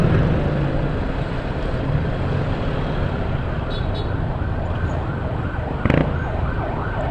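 An ambulance siren rises and falls in the background under steady traffic rumble, with a brief sharp knock near the end.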